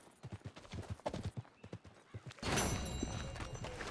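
In the video game Red Dead Redemption 2, a horse's hooves clip-clop in a quick, even rhythm, then a loud, close whinny with a bright, ringing tail cuts in and holds to the end.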